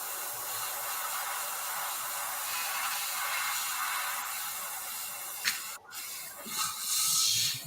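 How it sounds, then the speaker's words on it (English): A continuous spraying hiss holds steady and fairly close, then cuts out briefly and returns near the end. "Who's spraying now?"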